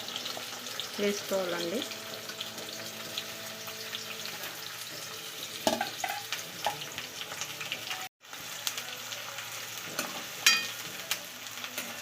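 Onions and a bay leaf fry in oil for chicken curry, giving a continuous close sizzle with scraping stirs and clinks, and a brief spoken remark over it.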